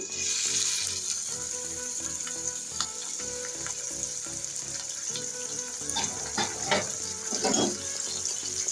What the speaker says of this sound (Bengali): প্রথমে আমি তেলের পর চিংড়িগুলা ভেজে নিচ্ছি